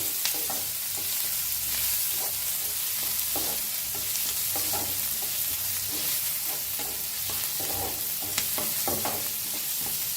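Onion, garlic and green chillies frying in a pan, a continuous close sizzle with repeated scraping strokes of a spoon stirring through the mixture.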